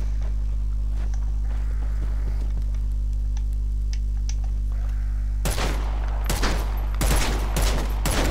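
Weapons firing in Dead Island 2: a steady low hum with faint scattered shots at first, then several loud, close gun blasts in quick succession near the end.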